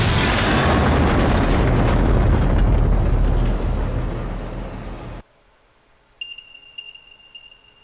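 Ships blow up in a Star Trek video game with a loud, rumbling explosion that roars for several seconds, fades and cuts off, followed by faint electronic game tones.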